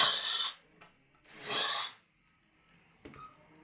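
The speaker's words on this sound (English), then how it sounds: "Just drill it out." A power drill bores out a handle on a DIY 2800W power supply, two strong half-second bursts of whirring drilling with a pause between, followed by faint clicks and handling noises.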